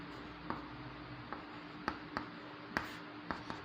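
Chalk or marker tapping and scratching out points on a board during a geography lesson on cyclones, a handful of sharp, spaced strokes against a steady low room hum, with no talking.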